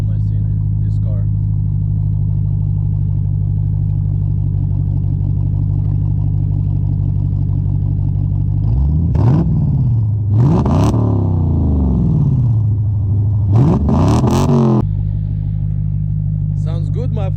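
Dodge Challenger with a newly fitted exhaust idles with a steady deep rumble, then is revved several times in loud sweeping bursts before settling back to idle, with people talking nearby.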